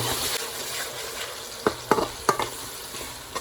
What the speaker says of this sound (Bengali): পেঁয়াজ আর আদা রসুনটা ভালো করে আমার ভাজা হয়ে গেছে